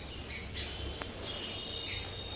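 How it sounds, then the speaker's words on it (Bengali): Several birds call and chirp in short bursts, including a thin, sustained whistle, near a beach holiday home at Digha on the coast, all over a steady outdoor background hiss with no talking. "জায়গাটা নানা রকম পাখির ডাক"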